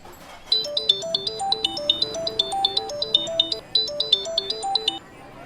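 A mobile phone ringtone for an incoming call plays a bright repeating electronic melody of short beeping notes, loud and clear with no talk over it.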